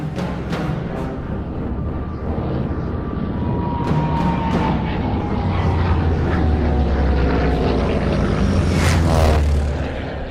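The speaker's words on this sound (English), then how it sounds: "We have Hitler's arrival, where the Junkers are actually being escorted by the fighters" A Junkers propeller plane drones steadily overhead, its engine rising slightly in pitch and growing louder toward the end, with a few sharp clicks mixed in, on a film set.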